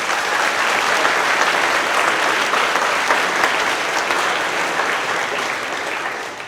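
A crowd at a company monthly celebration applauds steadily, a dense wash of clapping and a few cheers that holds loud throughout and then begins to thin out at the end.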